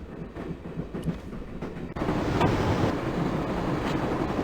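A train running in the adventure game Broken Sword: The Shadow of the Templars, a steady rumbling rail clatter with wind-like rush that swells louder partway through and then holds constant.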